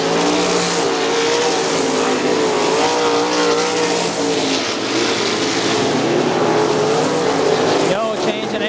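Sprint cars race on the dirt oval at Crystal Motor Speedway, a continuous loud engine roar with shifting pitch as the pack circulates, under an announcer's steady commentary.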